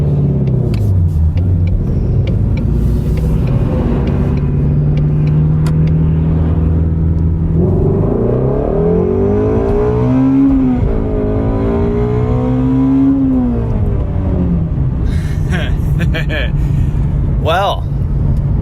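Ford Mustang Shelby GT350 flat-plane-crank V8 revving hard toward 8,250 RPM, a loud continuous rising and falling engine wail heard close from inside the car, with a sharp high-pitched climb near the end.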